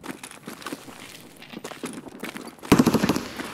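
Gunfire in Escape from Tarkov during a raid: scattered shots crackle at moderate distance, then a loud close burst of rapid automatic fire erupts near the end.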